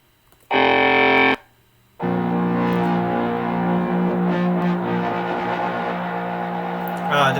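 A saxophone used as a synth controller and played through an arpeggiator pedal gives a buzzy, distorted synth tone: a short held note, a pause, then a long sustained droning passage with shifting harmonics.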